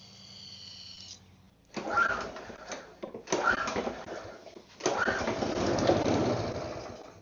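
A small engine that had sat outside uncovered sputters briefly on added fuel, three short rough bursts of running separated by pauses, fairly faint and close.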